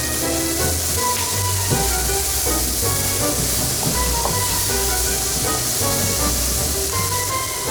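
Crispy chilli beef is stirred in a sizzling sauce in a Chinese takeaway-style dish, giving a loud, continuous sizzle and hiss with scraping and clinking of the utensil against the pan throughout.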